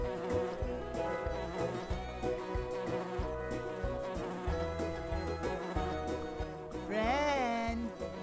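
Cartoon bumblebees buzz steadily in the Nature Cat video game Pollinator Pathway, a fairly loud, continuous drone blended into upbeat background music for about eight seconds.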